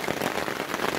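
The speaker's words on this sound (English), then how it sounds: "Absolutely hosing down at the moment." Heavy rain hoses down on a double-fly tent during a hunting trip, a dense, close drumming patter on the fabric, loud and continuous with no voices.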